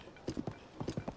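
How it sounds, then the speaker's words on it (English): Horse hooves clip-clopping along a road in the video game Tears of the Kingdom, two quick bursts of several steady, close, distinct hoof beats with a short pause between them. "Clippity clop."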